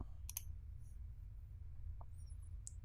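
A computer mouse gives a quick double click, faint and close against a quiet room hiss, with a couple of softer ticks afterward.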